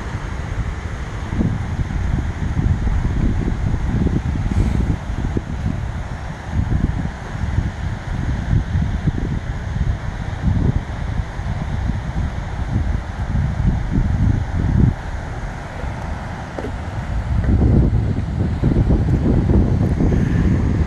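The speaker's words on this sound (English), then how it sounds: "You still got this northeast wind, light. Been blowing for 2 days now," A light northeast wind blows steadily at an ocean beach around sunrise, giving continuous rushing microphone buffeting with gusty low rumbles and a faint surf wash behind it, and no talking.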